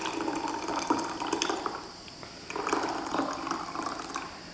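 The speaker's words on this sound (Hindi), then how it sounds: "अब हम इस स्मूदी को पोर करेंगे ग्लास में।" A cherry-almond smoothie, a milky summer shake with home-made cream, is poured into a glass, giving a steady liquid gush with a brief lull midway and then a fuller stream. It is close and moderately loud, and no one speaks.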